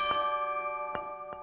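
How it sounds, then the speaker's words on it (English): Three bright scooter bell dings, spaced unevenly, each ringing out with a lingering metallic shimmer over a faint steady background hum. "My scooter bell."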